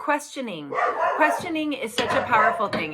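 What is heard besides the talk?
dog barking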